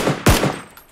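A single sharp gunshot cracks out in a shooter video game, loud and close, with a brief tail and faint trailing clatter afterward.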